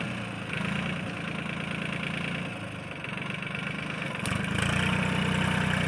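A Swaraj 630 tractor engine runs steadily in a cotton field, a loud, close diesel throb that rises slightly in the last second.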